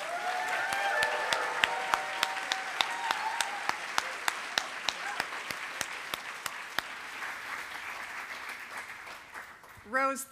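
Audience applause at a CreativeMornings New York talk, a broad wash of clapping with sharp individual claps standing out, under background talk early on, tapering off toward the end.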